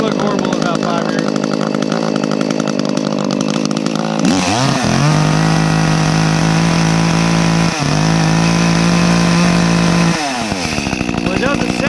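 A chainsaw, one of several makes being compared such as McCulloch, Stihl, ECHO and Husqvarna, starts partway through, then runs loud and close with a steady buzzing drone, a brief dip midway, then cuts off near the end.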